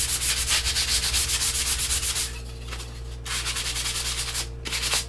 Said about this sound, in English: I'm just going to sand it and make sure everything is smooth